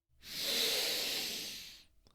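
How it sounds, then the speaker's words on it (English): A single long, breathy exhalation through the nose, close and steady, swelling quickly and fading at the end, with no other sound around it. "Isn't breathing so nice?"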